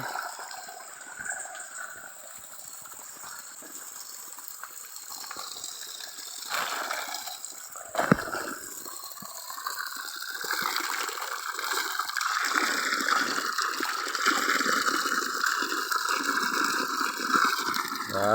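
Water flows in a mountain stream, a continuous rushing and gurgling that swells louder toward the end, with a few splashes and knocks breaking through.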